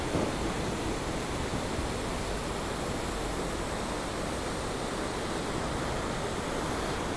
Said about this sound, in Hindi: this one is an huge waterfalls